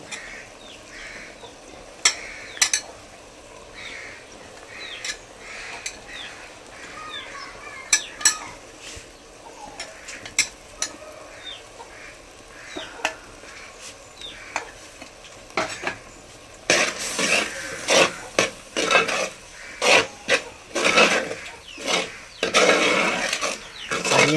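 Prepared masala is stirred into a pan of bondas, with a Tulunadu-style sukka cooking: spoon scrapes and clacks against the pan in irregular strokes, and the frying sizzle grows louder and busier in the later half.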